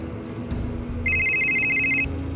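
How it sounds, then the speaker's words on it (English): A phone rings in a Fortnite machinima movie, a steady electronic trill lasting about a second over a low background hum, moderately loud and close. "Looks like you're getting another call."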